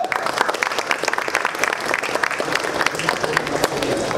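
Crowd applause and cheering for Marcelinho at a rap battle at Roda Cultural da Rocinha, a dense, steady wash of clapping and shouts throughout, loud and close.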